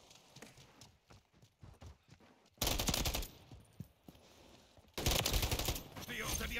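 Loud automatic gunfire in Call of Duty Modern Warfare III, two dense sustained bursts of rapid shots separated by scattered single cracks, close and heavy, with some talking mixed in.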